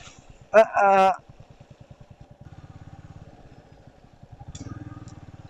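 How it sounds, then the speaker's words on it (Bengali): A heavy motorcycle rides a rough, damaged road between Dhaka and Shariatpur, its engine a steady, close, low pulsing thrum that swells toward the end, with a brief burst of a voice early on. "বাইকটা অনেক ভারী এবং এটার হেভি ওয়েটের কারণে স্পিড কন্ট্রোলের বিষয়টা খুব টাফ হয়ে যায়"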